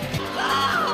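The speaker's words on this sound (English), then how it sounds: "Just screaming at the top of her lungs." A woman screaming on stage at a Miss Universe pageant, a single short, loud, high-pitched yell rising and wavering over faint crowd noise.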